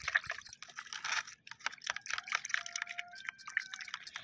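Water mixed with liquid soap, stirred to whip up foam for a homemade hibiscus fertilizer; a busy run of wet sloshing, dripping and bubbly clicks that continues steadily throughout at a close distance.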